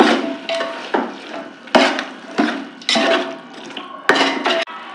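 A spoon scrapes and clanks against a metal pot while chicken biryani with curd is stirred, coming in several separate bursts with short pauses between them, close and fairly loud.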